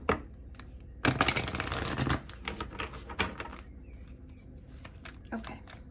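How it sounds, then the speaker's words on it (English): Tarot cards are shuffled close by: a dense, papery riffle burst lasts about a second, followed by softer intermittent shuffling flicks. "Let's do one more shuffle."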